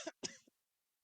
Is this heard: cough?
yes